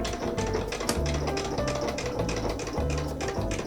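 A sewing machine stitches a quarter-inch seam down the diagonal of an elephant plushie, running as a dense, steady mechanical chatter for the whole stretch with brief pulses of heavier thumping.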